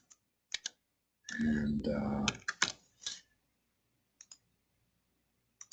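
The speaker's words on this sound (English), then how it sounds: "type in a few symbols" Clicks of keys tapped on a computer keyboard while stock ticker symbols are entered, a few short sharp clicks spaced out between bursts of nearby talk.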